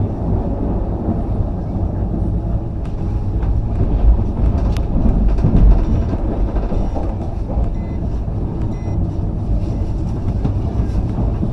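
Tejas Rajdhani Express 20501 running on rails at about 105 km/h, heard from inside the coach as a steady loud low rumble with continuous rail noise and wind, no clear talk.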